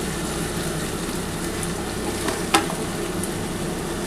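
Ivy gourd with coconut fries in a pan on low gas, giving a steady, even sizzle with one brief clink partway through and no voices.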